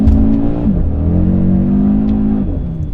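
A 2020 Audi RS Q3 with traction control switched off spins its wheels on snow, the engine revving loud and close with rising and falling pitch as the tires slip, and no one speaking.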